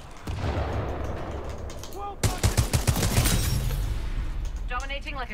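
Hip-fired weapons rattle off in a first-person shooter, a quick loud burst of rapid shots after a tense rumbling lead-in, with voices sounding over the action.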